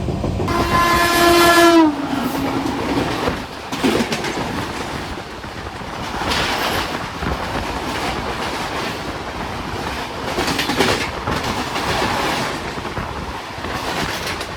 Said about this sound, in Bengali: এবার আমাদের সাথে দেখা হবে ট্রেন নাম্বার 12246 ব্যাঙ্গালোর হাওড়া দুরন্ত এক্সপ্রেসের সাথে।